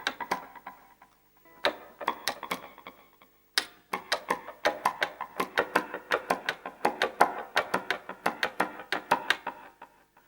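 A guitar plays a rhythm of one eighth note followed by two sixteenth notes, with crisp, percussive plucked strokes repeating in a steady pattern, close and clear after a brief pause, with no talk.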